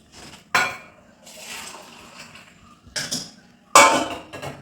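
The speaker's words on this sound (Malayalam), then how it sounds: "ഇങ്ങനെ ചായ എടുക്കുന്ന സമയത്തും ഗ്ലാസും കപ്പും ഒക്കെ നിരത്തുമ്പോഴാണ്" A few bright clinks and clatters of glasses and cups being set out while serving tea, spaced irregularly with quiet moments of shuffling between them.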